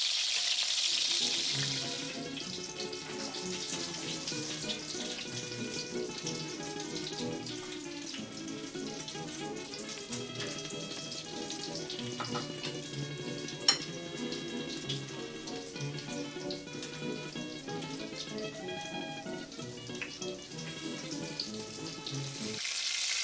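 Pork medallions frying in oil in a pan, a steady close sizzle with small crackles and pops running the whole time, louder at the very start and end, with no talking.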